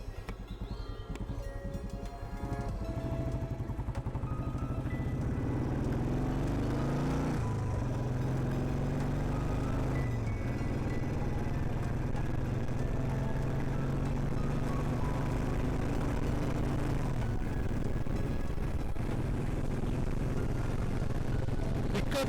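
A 1970 Royal Enfield Bullet motorcycle is ridden, its engine droning loud and close over wind noise, building steadily after a quieter start and holding a continuous pulsing rumble.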